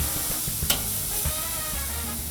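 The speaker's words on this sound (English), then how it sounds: "You can hear that sizzle." Steady close-up sizzling and crackling of churrasco meat cooking on a hot Weber kettle grill, with a few soft clicks and scrapes.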